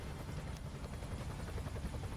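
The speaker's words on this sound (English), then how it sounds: "A recovery helicopter. I want to see this thing in action." Recovery helicopter in the video game Emergency 5, a steady, low rotor drone and engine hum held evenly throughout at a soft, moderate distance with no talk over it.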